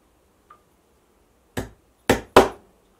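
A hammer drives upholstery tacks into webbing: three sharp, close, hollow knocks in quick succession after a faint tap, with silence between them.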